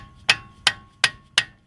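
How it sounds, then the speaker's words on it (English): A hammer gives four gentle, evenly spaced taps on a Ford Ranger front brake caliper, each a sharp close metallic knock with a brief ring. "gentle taps with a hammer"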